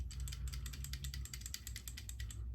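Rapid, irregular metallic rattling and clicking of a loose L-Twoo R9 bicycle component being shaken, repeating in quick bursts over a low steady rumble.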